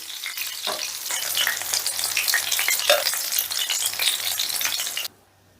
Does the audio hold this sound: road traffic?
no